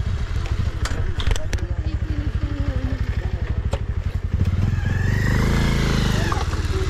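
A Classic 350 motorcycle engine chugs in a rapid, steady putter, then revs louder and rises in pitch as it pulls away over a rough mountain trail, with voices talking.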